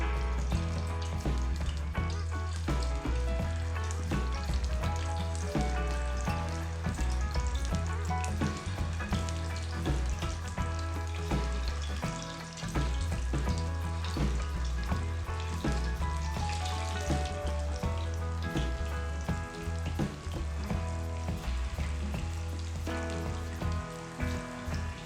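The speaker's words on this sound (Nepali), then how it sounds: "तेल तातिसकेपछि कोफ्तालाई फ्राई गर्नुहोस्।" Jackfruit kofta fries in hot oil with a dense, steady sizzle and crackle that runs unbroken and loud throughout, with no talking.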